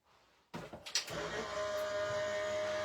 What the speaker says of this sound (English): put our die down, put this on the top, and run it through our machine.